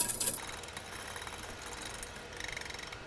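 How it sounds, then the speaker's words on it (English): A whisk stirs pumpkin pastry cream in a bowl, making quick, faint, rhythmic scraping and tapping close by. "I'm just going to take my whisk to it real quick,"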